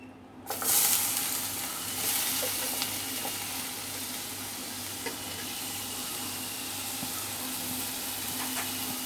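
Steady sizzling of pineapple pieces frying in ghee in a pan, with a brief louder burst near the start and light stirring scrapes throughout.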